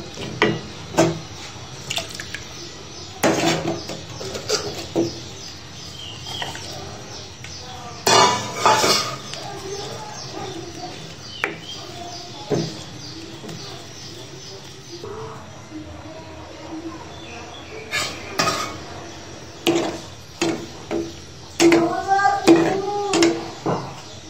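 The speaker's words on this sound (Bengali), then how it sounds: "এগুলো একটু নেড়ে ছেড়ে ডিমগুলো দিয়ে দেব।" A spoon intermittently clanks and scrapes in a pot of egg curry (dim bhuna). Sharp metallic knocks recur throughout the clip, and voices talk over them.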